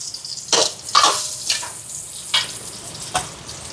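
Onions sizzle and fry in a pot, with several scraping stirs punctuating a steady background hiss, cooking a vegetable dish with lentils and pumpkin.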